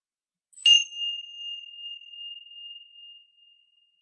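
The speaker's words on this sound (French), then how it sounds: "je vais faire sonner cette petite cloche" A small meditation bell is struck once, a clear bright ding that rings on alone in silence and fades slowly over about three seconds.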